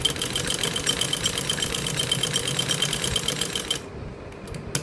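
A sewing machine stitches the folded waistband casing of a salwar, running in a steady rapid mechanical rattle close by with no talk, then stopping abruptly near the end.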